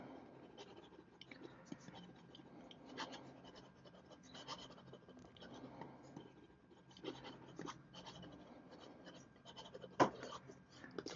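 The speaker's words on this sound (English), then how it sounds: "even just scribbling really quickly does it does run really nicely" A Visconti Van Gogh Starry Night fountain pen scribbles quickly across paper, its nib giving a steady, close, dry scratching with small rhythmic strokes and a few sharper scrapes throughout.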